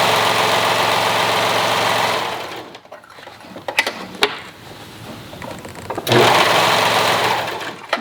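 A sewing machine stitches a lined tank top in a steady, close whir for about two seconds, stops into near quiet with a few soft clicks and rustles, then runs again in another sustained burst.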